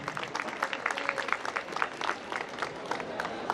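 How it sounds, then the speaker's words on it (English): A crowd applauds award winners at a school Diwali carnival award ceremony. Dense, lively clapping holds steady through the whole few seconds, with faint crowd murmur beneath it. "Let's welcome the winners with a huge round of applause"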